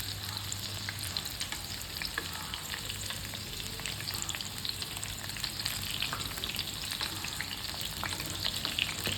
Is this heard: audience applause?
no